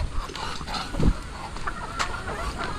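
Chickens on a farm in heavy rain give short, close, repeated clucks over a steady wash of rain noise.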